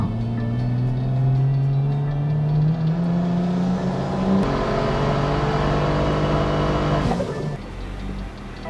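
A tuned BMW F30 335 engine revs on a dyno, a loud sustained drone whose pitch climbs steadily through a full pull, then drops sharply as the throttle lifts and the run winds down.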